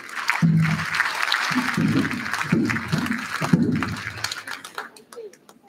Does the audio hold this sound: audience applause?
yes